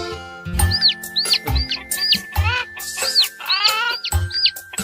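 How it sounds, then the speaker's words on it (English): A dancing chicken toy clucks in a series of bright, squeaky electronic cluck calls over a bouncy beat with low thumps, loud and close, with no talking. "There's Cornelius, the dancing chicken from Baby Bot"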